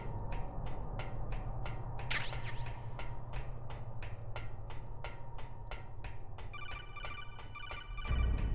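An electronic codec call ringtone from Metal Gear Solid: The Twin Snakes repeats in a steady, even pulse over the game's constant background hum, then a brighter beeping pattern takes over near the end.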